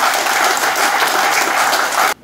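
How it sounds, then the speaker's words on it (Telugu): A crowd at an Azadi Ka Amrit Mahotsav gathering claps loudly to welcome guests, a dense, steady burst of applause that cuts off abruptly just before the end. "మనం గట్టిగా చప్పట్లతోటి స్వాగతం జరపాలి"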